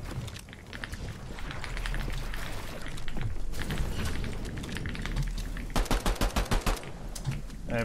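Rapid pistol shots crackle in a Fortnite match, a busy stretch of game noise ending in a tight string of about eight loud, evenly spaced shots near the close.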